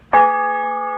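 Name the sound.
church bell rung by rope in bell tower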